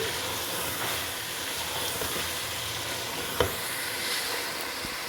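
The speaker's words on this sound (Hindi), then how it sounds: "चलें जी, मटन को मैं अच्छी तरह से भून लूँगी।" Mutton is stir-fried (bhuna) for biryani in a steady, moderately quiet frying hiss and sizzle, with one sharp clink of a utensil partway through.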